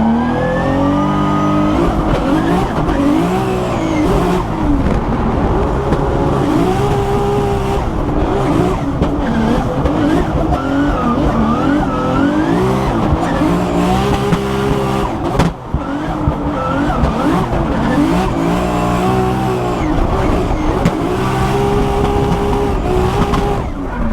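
A Formula Drift race car engine roars and revs continuously at close range while the tires squeal through a long drift, loud and unbroken apart from one brief dip.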